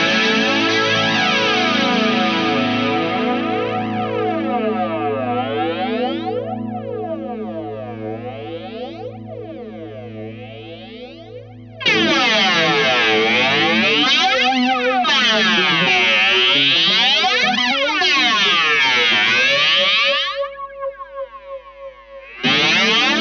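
A PastFX Elastic Mattress flanger pedal processes a sustained tone into a metallic, swirling sweep with chorus-like and echoing textures, cutting off and returning abruptly in loud, continuous stretches with no talking.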